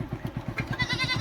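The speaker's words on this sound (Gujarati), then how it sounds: "ઘેટા તો નથી પણ બકરા હે ભાઈ" Goats blocking a village road bleat briefly, a short quavering call rising over a rhythmic low engine-like throb, fairly faint and at moderate distance.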